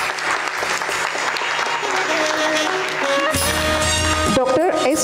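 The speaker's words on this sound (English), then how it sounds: "I am requesting the audience to have a huge round of applause" Audience applause at an entomology society awards ceremony, a dense, steady crowd clapping that fills the whole five seconds, while a tonal sound and some other noise come through toward the end.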